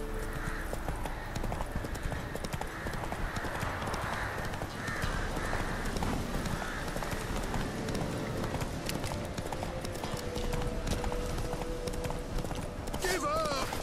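Roach, the horse in The Witcher 3 video game, gallops with a fast, continuous clip-clop of hooves, an occasional whinny, and game sounds and voices in the background throughout.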